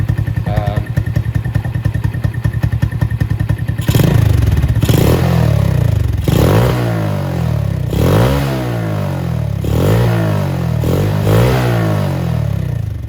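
A Venom X22 125cc motorcycle fitted with an upgraded, opened-up muffler idles with a rapid, deep putter, then revs up hard several times in repeated rising-and-falling bursts, loud and close.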